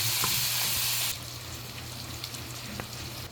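Food frying in a wok, a steady hissing sizzle that is loud for about a second and then settles to a quieter bubbling crackle with a low hum underneath.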